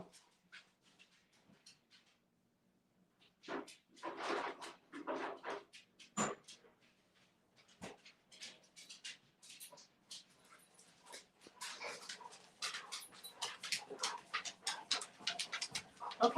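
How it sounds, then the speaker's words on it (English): Dogs indoors whimper and pant faintly in scattered bursts, with soft rustling and knocks like a cupboard moving, and the sounds grow busier toward the end. "let me get the dogs something to keep them busy"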